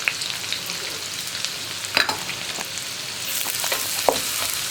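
Chopped onion and carrot sauté in a pan for sweet corn fried rice, a steady close sizzle with occasional stirring scrapes and clicks, no talking.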